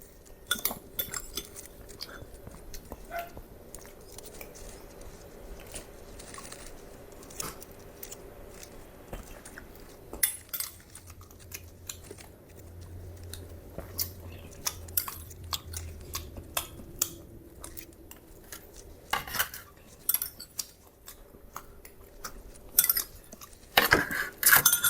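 Cutlery clinks and scrapes against plates during a meal, with intermittent chewing and soft crunching, fairly quiet and close, with sharper clatters near the end.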